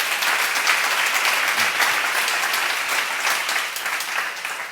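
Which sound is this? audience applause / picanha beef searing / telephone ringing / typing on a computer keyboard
audience applause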